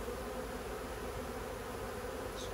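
Swarm of honey bees buzzing around a hive full of honey, a dense steady hum close by with no talk.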